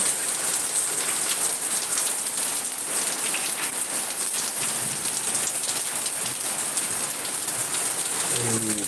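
Steady, dense rain pours onto a surface on a wet morning, a continuous loud hiss with scattered drops and no break, no voices.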